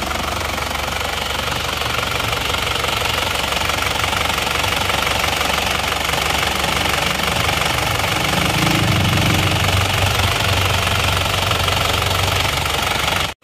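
Engine running with a mild compression leak, a loud, steady, close-up mechanical clatter with rapid knocking pulses throughout and a brief low rumble swelling near the end.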